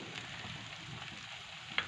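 A corn flour makki roti fries in oil on a pan, giving a steady close sizzle and crackle throughout, with a single faint click near the end.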